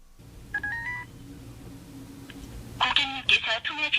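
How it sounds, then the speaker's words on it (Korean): Telephone keypad dialing tones while calling the 1388 youth counseling line: a short run of quick beeping tones over a low hum, followed by brighter, busier phone audio. "상담이 어떤 식으로 진행되는지 알아보기 위해 직접 전화 연결을 해보았다"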